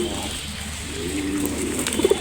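Pet pigeons feeding close by give low, throaty coos, with a few short soft calls near the end over a faint background hum.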